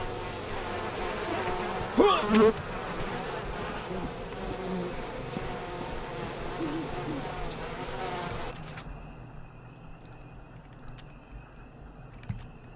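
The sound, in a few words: bees buzzing in the video game We Happy Few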